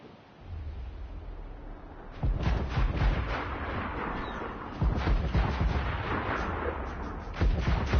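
Ship cannons fire in the Assassin's Creed Black Flag video game as a naval battle against towers goes on. After a quiet start come loud, booming, overlapping volleys that keep rolling, with heavy blasts near the middle and again at the end.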